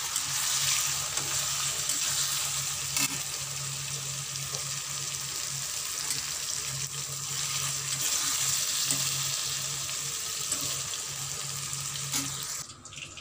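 Paneer fries in a pan with a steady, even sizzle that carries on alone, without voices, before stopping abruptly near the end.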